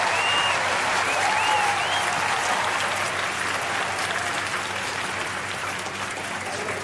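A canned applause sound effect from a livestream soundboard button plays as a steady, dense wash of crowd clapping and cheering. It holds at an even level throughout, with faint whistles near the start.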